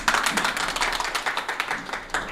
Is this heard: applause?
yes